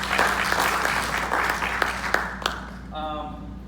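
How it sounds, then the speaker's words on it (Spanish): A church congregation applauds for the Lord, a thick wash of clapping under a speaker's voice that fades out near the end, with a brief tonal sound at the close. "aplauso para el Señor, hermanos."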